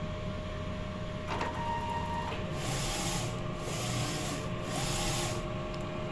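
A DTF printer runs a nozzle test, its print head carriage sweeping back and forth in several rising and falling whooshing passes over a steady mechanical hum, close and moderately quiet.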